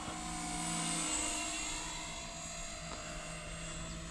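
A Blade 250CFX RC helicopter fitted with a three-blade head whines in flight, a faint, steady high-pitched buzz with a gentle swell.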